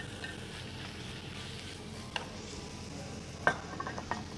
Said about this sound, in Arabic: بمقلايتين منفصلتين، راح ننزل الدجاج بوحدة منهم مع شوية زيت